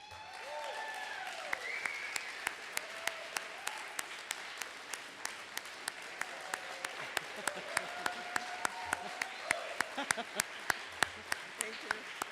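Scattered, sparse clapping from a chamber of commerce luncheon audience with sharp individual claps standing out, while voices murmur and talk continues underneath.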